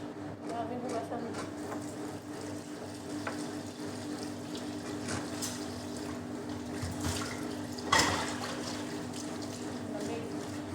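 Dishes being washed under a running kitchen tap, a steady stream of water with light clinks of plates and one sharper clatter partway through, over a constant low hum.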